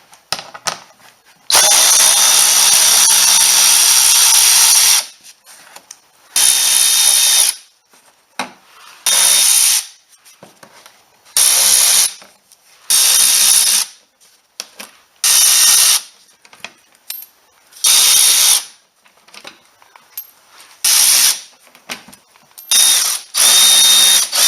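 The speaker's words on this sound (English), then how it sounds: "in the lower part of the bumper there are 10 screws and we need to remove all of them" A power tool removes the ten screws from the lower bumper cover of a Ford Fusion. Loud, buzzing, ratcheting bursts repeat a dozen or so times, each a second or two long, with silent pauses between them.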